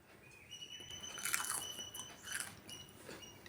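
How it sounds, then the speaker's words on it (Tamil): A child chewing crispy dosa dipped in tomato chutney, giving soft crunchy bites close to the mouth, with a few brighter crackling bursts around the middle and a high steady tone running beneath. "தோசை மொறு மொறுன்னு அவன் மெல்லும் போதே சவுண்டு அவ்வளோ கேட்குது"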